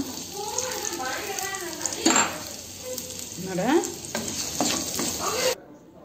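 Onions sizzle steadily in hot oil in a pan while a spoon stirs and scrapes, with a voice speaking intermittently over the frying.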